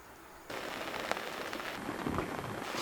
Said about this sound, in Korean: 갑자기 비가 옵니다.